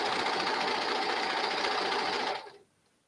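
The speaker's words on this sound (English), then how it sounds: "start at the bottom cuff and just serge or sew all the way up to the waist" A serger runs continuously, sewing baby leggings from the bottom cuff up to the waist, a loud steady mechanical whir that stops abruptly near the end.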